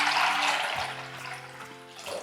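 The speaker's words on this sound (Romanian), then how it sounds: "Prima dată, cu o zi înainte, o să-l acoperim bine cu apă" Water runs and splashes steadily over raw, unsalted cashews as they are covered for soaking, a close, continuous pour that tails off near the end.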